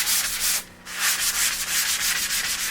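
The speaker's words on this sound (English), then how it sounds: "I'm sanding between coats, this time anyway, with 220." Sandpaper of 220 grit rubs back and forth over a wooden baby crib between finish coats, a steady close scratchy rasp of repeated strokes with one brief pause, and no talking.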